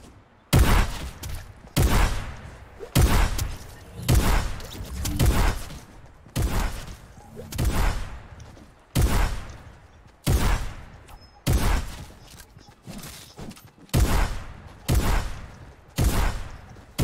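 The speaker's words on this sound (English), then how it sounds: "let me practice my shotguns" Fortnite shotgun blasts fired in a steady series, about a dozen loud booming shots roughly every second and a half, each with a brief decaying tail and no talk over them.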